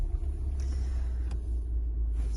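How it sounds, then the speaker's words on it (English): A Ford Fiesta ST engine, already running, holds a steady low idle rumble with a faint hiss above it and no other sounds. "we can start the car as normal."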